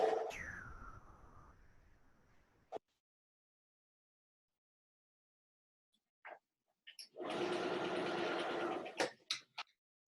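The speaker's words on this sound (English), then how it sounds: "I'm just going to sew that straight the way up because I've got no seams to match up at all." A sewing machine runs a straight seam up the edge of a quilting piece, a steady whirring burst of stitching lasting about two seconds, preceded by a fading hum and brief handling clicks.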